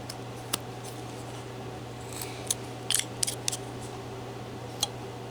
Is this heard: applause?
no